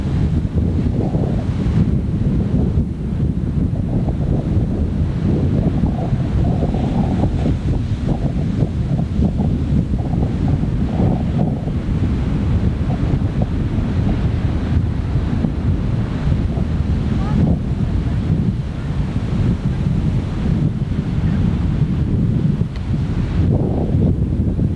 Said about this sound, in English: Surf fishing, the Atlantic Ocean,